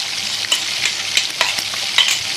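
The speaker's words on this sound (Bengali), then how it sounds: "দেখো ফেটিয়ে রাখা টক দইটাও দিয়ে দিলাম।" Beaten sour yogurt added to spiced masala in a hot pan for rasgulla malaikari, stirred with a steady soft sizzle and several brief scraping stirs close up; no talking.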